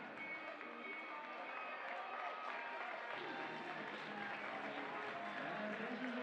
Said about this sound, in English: The crowd here, as they always do, ringing the glass along the outside of this 200-meter banked oval